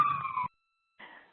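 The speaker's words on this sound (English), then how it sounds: "we've got a siren going by" An emergency vehicle siren near a fire department sounds in two short wailing bursts separated by a gap of silence, fairly loud and tonal.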